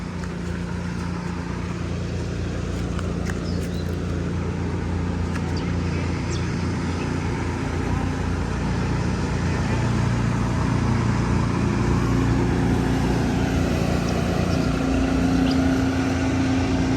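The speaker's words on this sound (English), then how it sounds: "can hear a boat coming." A steady motor drone from an approaching boat at Mataranka, continuous and fairly loud throughout with a broad rumbling hum.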